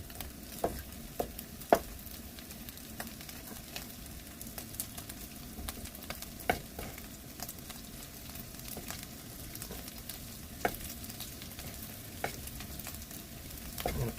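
Tofu tempeh sizzling over medium-high heat in a hot pan, a steady close frying hiss with scattered sharp pops and occasional stirring scrapes, no voices.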